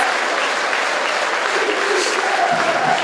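A large football crowd at a Wrexham match roars and claps in a dense, continuous wash of noise, steady and loud throughout with no distinct voices standing out.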